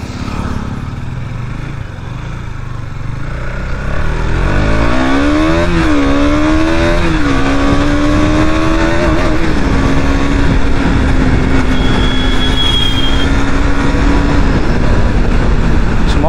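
A new 2022 motorcycle engine idles loudly, then revs up as the throttle is opened, rising in pitch and settling into a steady, high drone close by.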